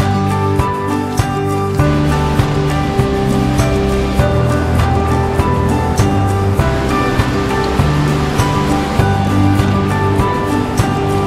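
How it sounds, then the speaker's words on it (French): Rushing water roars continuously, a broad steady wash like a nearby waterfall, with faint tonal sounds layered over it and no talking. "Mais on entend la cascade."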